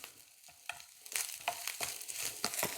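Grated coconut sizzles in a hot pan for a Kerala erissery, softly at first and then louder, with repeated scraping spatula strokes through the frying.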